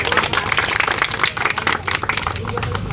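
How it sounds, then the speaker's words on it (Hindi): Audience clapping loudly to welcome a guest at a hospital staff strike gathering, dense continuous applause over crowd murmur and voices. "जोरदार तालियों से उनका स्वागत करें।"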